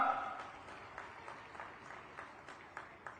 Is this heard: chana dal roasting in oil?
no